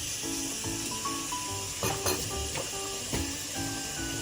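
Pav bhaji of onion and tomato sizzles in a pan while being mashed and mixed, with a continuous hiss broken by repeated scraping and clinking strokes of the utensil, and no voices.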